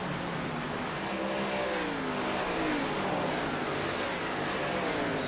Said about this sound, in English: Just listen to those engines roar as they go flying by.